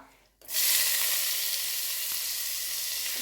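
Spring onion hits hot oil in a pan for egg fried rice, bursting into a loud, steady sizzle that starts abruptly and holds evenly throughout, close up with no talking.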